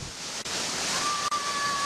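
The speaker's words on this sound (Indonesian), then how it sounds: "Air terjun ini memang tidak setinggi dan sebesar air terjun pada umumnya." Steady, dense rushing water from a small waterfall in a lush forest setting in South Aceh, a constant broadband roar close by with no voices.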